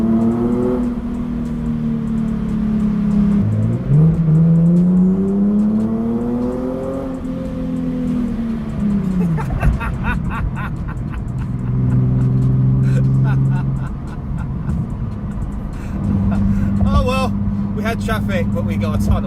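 A Nissan 370Z Nismo on KW V3 coilovers with hydraulic lift drives through a tunnel in traffic, its engine droning steadily with rising and falling tones as it revs through gears, echoing loudly in the enclosed space.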